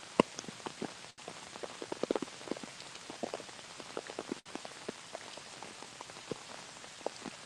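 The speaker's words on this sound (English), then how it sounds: "Let the noise of the rain" Steady rain patters on a hard surface, with many close, distinct drops tapping irregularly over a soft continuous hiss.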